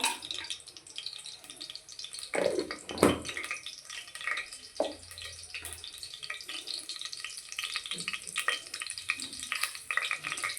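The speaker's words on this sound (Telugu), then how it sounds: "ఇప్పుడు ఆయిల్ వేడెక్కింది, కొన్ని స్పైసెస్ వేస్తున్నాను అనమాట" Spices hit hot oil for a mutton curry, crackling in uneven spurts with a couple of sharp louder pops early on, then softer intermittent sizzling and small clinks, fairly quiet overall.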